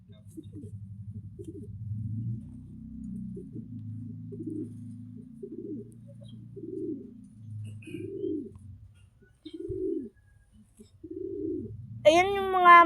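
Capuchin fancy pigeons give repeated low, throaty coos in a steady rhythm, close by, with people talking softly underneath and a brief higher chirp at the end.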